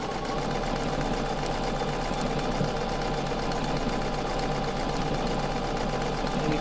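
A domestic sewing machine stitches quilting circles in a steady, continuous motor whir with rapid needle clatter, close and loud throughout with no pauses.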